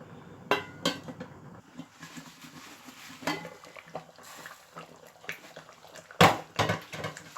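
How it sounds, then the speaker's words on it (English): A cooking pot of tilapia fish stew is shaken instead of stirred, giving scattered metallic clanks and knocks at close range, with a louder clatter near the end and quiet gaps between. "So normally what you do, you just shake the pot like this."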